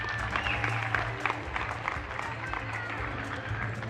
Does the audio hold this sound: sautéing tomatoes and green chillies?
no